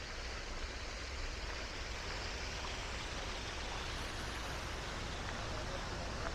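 Steady broadband rush of a waterfall in Retiro Park, Madrid, a continuous even wash of falling water heard alone at moderate distance.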